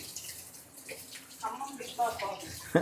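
Water splashes briefly and faintly into a pot as it is added for watery gongura (sorrel leaf) chutney, with a few soft trickles and one sharper splash at the end.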